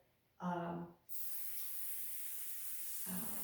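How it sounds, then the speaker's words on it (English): A short voice murmur gives way to a steady, loud aerosol hiss of cooking spray onto a pan lasting about two seconds, then the voice returns. "I'm going to just liberally spray my pan"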